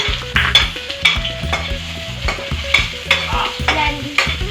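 Ginger being sautéed and stirred for squid adobo, with a steady sizzle in the pan broken by repeated scraping strokes of a utensil, close and fairly loud.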